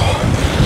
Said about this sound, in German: das ist ein Kampf gegen den Wind heute